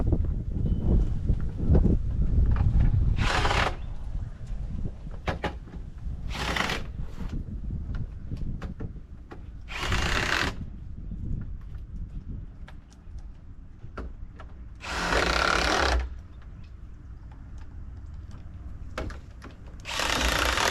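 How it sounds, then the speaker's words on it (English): A power drill drives screws into the upright of a vinyl fence gate, firing in several short, loud bursts spaced a few seconds apart over a rustling, handling background. "I'm going to add screws into this upright."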